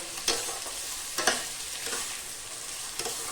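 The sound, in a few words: onions frying in a pan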